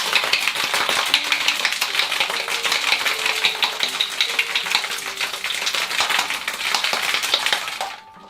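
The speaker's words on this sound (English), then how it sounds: "now give it a good hard shake, 8 to 10 seconds," Cocktail shaker filled with ice shaken hard for about eight seconds, a steady loud rattling churn of ice against the tin that stops abruptly at the end.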